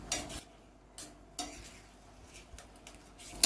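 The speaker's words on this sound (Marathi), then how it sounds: "त्यामध्ये आपण 4 अंडी टाकणार आहेत आणि अंडी मिक्स करून घेणार आहे" Eggs being stirred in a hot pan for Indian egg bhurji with spices: scattered soft scraping and clinking strokes of a utensil against the pan, with a few sharper taps and a quiet sizzle underneath, no voices.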